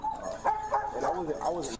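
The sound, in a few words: dog barking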